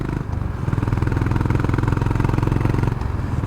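Honda CB350 RS motorcycle engine while riding, a loud, close, steady low thumping exhaust beat with even rhythm, briefly dipping near the start and again toward the end.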